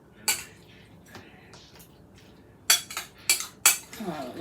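A utensil stirs cracker salad in a bowl, a soft scraping mix broken by sharp clinks against the dish, the later clinks louder and quicker.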